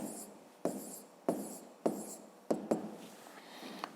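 Someone hand-writes a number on paper, a series of five or six short, crisp scratching pen strokes, each starting sharply and fading, close and quiet with no talking.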